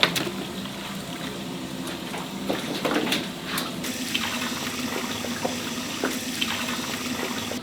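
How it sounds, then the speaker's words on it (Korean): Running tap water pours steadily over beef bones in a sink, with intermittent knocks and splashes as the bones are rinsed, close and continuous. "뼈는 또 왜 물로 씻으시는 건가요?"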